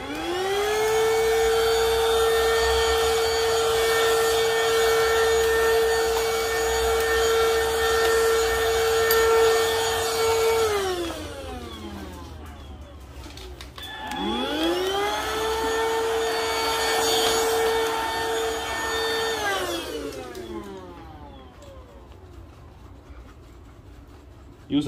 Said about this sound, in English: Okay, let's vacuum this. So it's going to be a bit noisy.